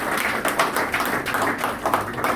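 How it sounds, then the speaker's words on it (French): An audience at a meeting between Tshangu local officials and the SNEL electricity company applauds. The clapping is moderately loud and scattered, with many hands clapping unevenly close by. "je voulais qu'on vous applaudisse aussi."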